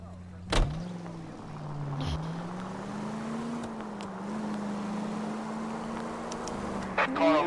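A car in L.A. Noire drives along with a steady low engine hum that rises and falls gently, opening with a sharp thump and ending with a few light clicks.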